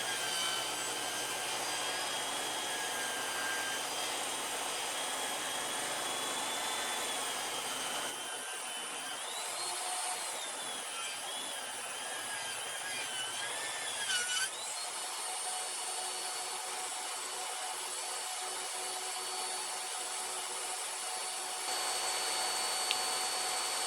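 A DeWalt table saw makes a full-depth cut through a 2x6 board, with a steady whining motor and a rough, grinding blade-through-wood tone that shifts midway, sustained for over twenty seconds with no voices.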